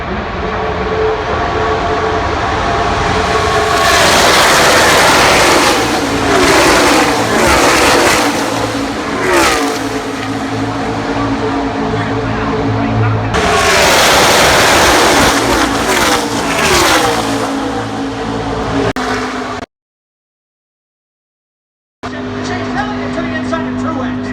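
A pack of NASCAR stock cars roars past at Talladega during a race, engines droning loud and steady in waves before cutting out briefly, with a commentator talking over the din.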